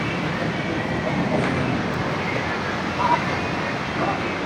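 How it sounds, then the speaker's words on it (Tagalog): An MRT train rides through Quezon City near Quezon Avenue station, giving a continuous loud rumble and hum of rolling carriages with faint squeals. People talk under the noise. "Quezon Avenue MRT station."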